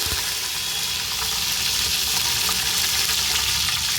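Mustard seeds and curry leaves splutter and sizzle in hot coconut oil, a loud, continuous crackling fry with dense popping throughout, heard close up with no talking.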